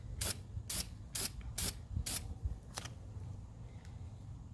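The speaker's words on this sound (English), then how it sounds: "you can go ahead and spray about 6 inches away" Several short hissing bursts of a can of gloss black engine spray paint on exhaust tips, about five quick sprays in a row, fairly close, followed by quieter handling noise.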